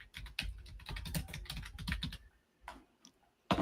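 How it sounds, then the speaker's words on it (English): Heavy, rapid typing on a noisy computer keyboard comes in dense clusters of sharp clacks, stops briefly, then resumes with a few scattered keystrokes, all close and alone. "There's some heavy typing right there."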